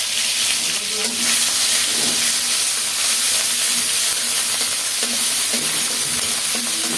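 Garlic, ginger and cumin paste frying in oil for a mustard rohu curry, a loud continuous hiss and sizzle with faint stirring scrapes underneath, close and steady throughout.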